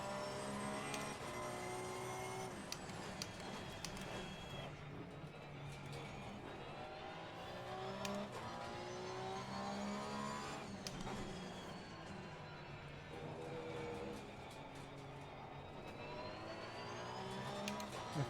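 Race car engines in Assetto Corsa Competizione, with another car about to overtake: continuous high revving engine with repeated rising pitch sweeps through gear changes, steady and close, no talking.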